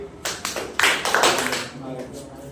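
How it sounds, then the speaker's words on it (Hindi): A class of children claps for a classmate, a brief burst of uneven applause that starts and stops raggedly, with voices murmuring underneath. "बहुत अच्छा, ताली बजाओ उसके लिए"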